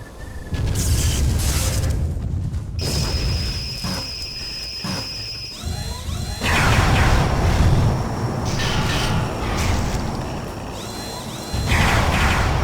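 Missile explosions in the video game Godzilla: Save the Earth boom loudly and continuously, with rumbling blasts and crashes layered over whistling tones and mechanical noise. The barrage runs throughout at close range.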